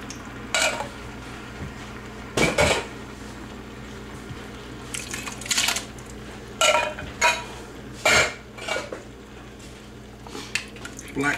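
Canned diced tomatoes with their juice are poured into a pot of taco soup, and the can and utensils knock against the pot. Several short clattering bursts rise over a low steady background with no speech.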